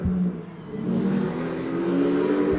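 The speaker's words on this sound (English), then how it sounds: "Oh, we got a hypercar coming up." Hypercar engine in Le Mans Ultimate racing game revving steadily and building, a loud continuous drone with rising pitch over about two and a half seconds, no talk.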